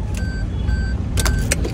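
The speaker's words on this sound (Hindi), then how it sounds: "यहाँ से अपने चारों के चारों शीशे जो हैं उतर गए।" A 2022 Maruti Brezza's power windows whir downward inside the car, a steady motor hum under cabin noise, followed by a few brief clicks and bumps near the end.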